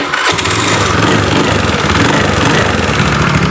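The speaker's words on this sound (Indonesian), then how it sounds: "Terus kita coba bunyikan kontak on, lalu double starter." A motorcycle's electric starter cranking a stiff engine with a heavy double-starter fault linked to the rocker arm, a loud, close, continuous mechanical churning with no pause.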